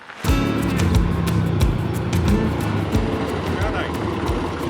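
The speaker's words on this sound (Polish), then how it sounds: "Ja pojadę autkiem, a Grzesiek wózkiem widłowym" A car engine runs steadily and fairly loud as the vehicle drives to a building site, with rumbling low tones and scattered clicks and bumps throughout.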